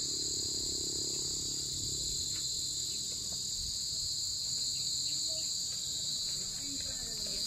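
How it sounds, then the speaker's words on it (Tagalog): Crickets chirp steadily at a hillside campsite in Tanay, Rizal near the Sierra Madre, a dense continuous high trill that fills the night air with faint low rumbles beneath. "Yan, may kuliglig na."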